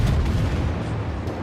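Heavy battleship main guns firing in the naval combat game World of Warships, a deep, sustained low rumble and boom filling the short moment loudly with no voices.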